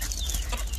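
Chickens, offspring of a 12-year-old rooster, cluck faintly and briefly on a farm.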